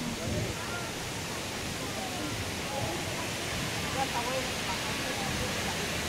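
Strong river current rushing at one of the seven waterfalls of Lake Sebu, South Cotabato, a steady broadband roar of falling water filling the whole stretch, with faint voices in the background.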